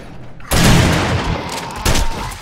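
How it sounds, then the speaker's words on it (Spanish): Shotgun in the zombie survival game 7 Days to Die fires two loud, close blasts about a second and a half apart, each a sharp broadband crack with a short decaying tail. "Ahora vamos a usar la escopeta"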